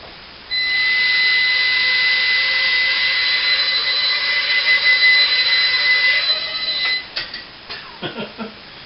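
A small toy Lady Bird quadcopter drone flies close by with a steady high-pitched whining buzz that holds for several seconds, then breaks into sputtering bursts and stops as the flight gets out of control.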